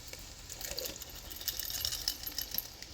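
Water poured from a can into a pot of unseasoned black beans, a bright splashing trickle lasting a few seconds, fairly close and unaccompanied by talk.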